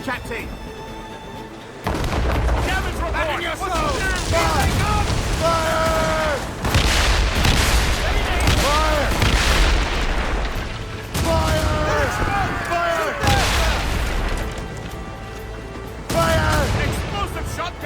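Ship cannons in Assassin's Creed Rogue fire in repeated broadside volleys of loud booming blasts, layered with shouted crew voices and dramatic game music throughout.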